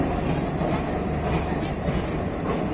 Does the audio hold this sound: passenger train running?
yes